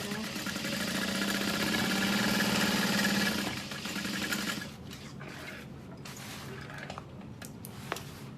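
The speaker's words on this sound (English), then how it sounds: "I like to top stitch the bottom of my bag too." Sewing machine top stitching the bottom of a fabric barrel bag: a steady mechanical whir runs for about four seconds, then stops, leaving quieter handling noises.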